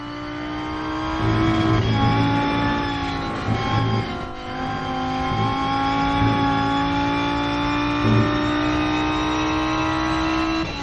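Rear-engined race car in the sim racing game Rennsport, its engine droning loud and steady with harmonic whine, rising and falling as the revs shift, gear changes marked by brief dips, no talk.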